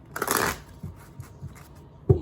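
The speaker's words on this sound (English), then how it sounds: "One more shuffle." A quick riffle of tarot cards being shuffled, a short papery flutter followed by a few soft taps and a sharp knock, close and quiet.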